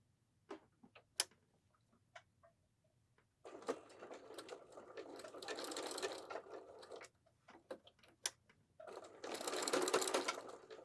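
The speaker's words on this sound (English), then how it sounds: "we are going to sew shut the tie and sew it to our apron all in one turn" A sewing machine stitches an apron tie shut and onto the apron. It runs in two close, steady bursts of whirring, separated by scattered clicks and handling noises. No one speaks.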